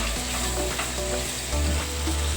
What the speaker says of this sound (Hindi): मटर भी डाल देंगे। मटर भी ऐसे ही पकानी है हमें साथ में। और अच्छे से चला देंगे मटर डाल के।